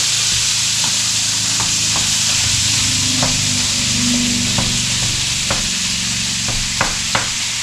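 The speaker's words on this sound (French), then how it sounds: "On va faire cuire la viande d'orignal comme il faut." Moose meat frying in plenty of butter in a pan, a loud continuous sizzle with occasional stirring scrapes and small clicks, close up and without talk.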